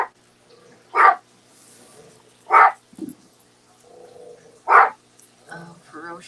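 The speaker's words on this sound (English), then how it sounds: "Oh, ferocious dog." A dog lets out three sharp, loud barks spaced about two seconds apart, with quieter rumbling and muffled sounds in between.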